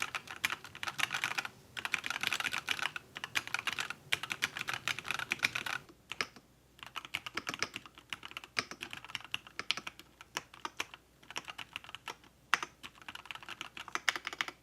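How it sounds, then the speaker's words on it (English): Rapid clacking of keys on an Epomaker TH80 SE mechanical keyboard, fast continuous typing with brief pauses, close up and fairly quiet. "the sound from the keyboard is very supple"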